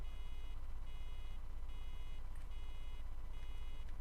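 A farm vehicle in Farming Simulator 2013 sounds a reversing alarm, repeating evenly spaced beeps at a steady rhythm over a low engine drone, with no talk.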